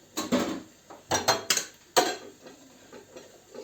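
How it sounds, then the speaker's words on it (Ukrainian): A spoon knocks against a pot while stirring boiling cherry juice with sugar into syrup, giving several sharp clinks and scrapes in irregular bursts, close and moderately loud, with no voices. "Розмішуємо і кип'ятимо."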